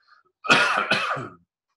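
A single close, harsh cough-like throat clearing in two quick bursts, loud and dry, with no talking around it.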